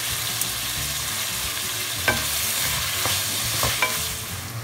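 Tomatoes sautéing with salt in a pan for a fish curry, a steady close sizzle broken by a few sharp spatula scrapes and clinks, with no talking.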